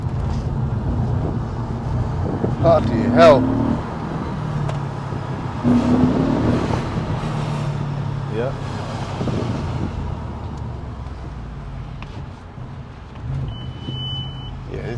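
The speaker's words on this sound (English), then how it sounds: "The customer has actually asked me to take the car out for a good blast." An Audi RS4 with engine trouble is driven hard on the road, its engine a steady low drone under excited talk from the people inside, with a few short electronic beeps.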